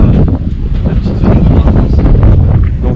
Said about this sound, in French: il y a beaucoup de vent puisqu'on est à peu près presque en montagne